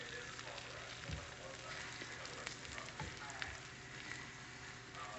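Beaten eggs for an omelet sizzle steadily in a hot pan, a constant close crackle with a few faint clicks and stirring bumps, no talk over it.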